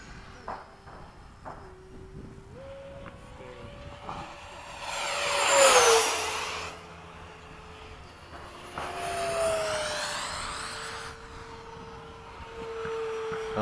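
A Freewing 90mm F-15 or 70mm F-16 electric RC jet flies past with a rising and falling whine of its ducted fan, swelling loud on a close pass and again on a second pass, over open-field quiet.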